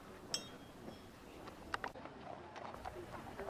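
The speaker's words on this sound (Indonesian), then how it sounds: "Kuda Panglima Menengro." Racehorse hooves clip-clop on a hard surface in a stable area during saddling, a scattering of faint, irregular knocks with a metallic clink among them.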